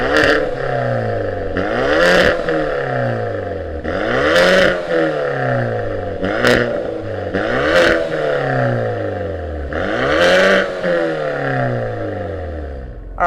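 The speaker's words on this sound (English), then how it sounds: "Let's see what this one sounds like without the performance pack active exhaust." A 2020 Hyundai Veloster N without the performance package revs its exhaust in repeated loud surges, each climbing steeply and dropping back, with pops and crackles between rises and no talking.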